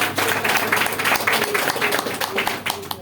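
Audience applause at a health seminar, a burst of clapping from a crowd indoors, fairly loud and sustained, with a speaker's voice over it.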